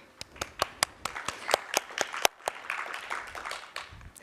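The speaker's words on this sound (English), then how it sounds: "Round of applause." A few people clap at a tech conference, with sharp, distinct, irregular claps that thicken briefly into light, sparse applause and then fade, all fairly faint.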